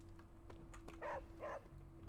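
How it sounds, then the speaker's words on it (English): A dog in the Marvel Midnight Suns video game gives two short, soft barks close together, faint over a quiet background hum. "dog."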